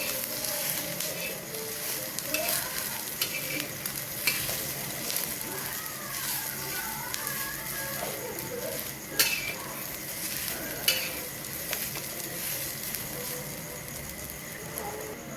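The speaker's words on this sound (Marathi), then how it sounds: "खोबरं टाकल्यानंतर खोबरं पण थोडं हलकंसं लाल भाजून घ्यायचे" Grated coconut roasts with onion in a pan for a Maharashtrian fish curry masala, giving a steady sizzle and frying hiss with repeated scrapes and clinks of a spatula against the pan.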